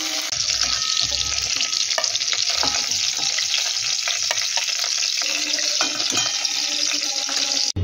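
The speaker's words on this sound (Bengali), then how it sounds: "পটল বেশ লাল লাল করে ভেজে নিয়েছি। এবারে আমরা পটলগুলোকে তুলে নেব।" Pointed gourd (potol) frying in hot oil, a loud, steady close-up sizzle with bubbling and occasional stirring clatter throughout.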